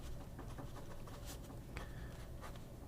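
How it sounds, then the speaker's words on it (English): A fine-nib Majohn X1 fountain pen scratches across paper in short, quiet strokes over steady low background hiss, with a few brighter scrapes standing out; nobody speaks. "let's see if it writes"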